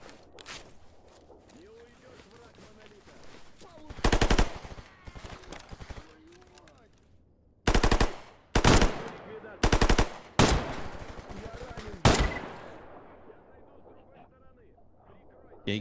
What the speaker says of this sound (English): Gatekeeper is still shooting my companion.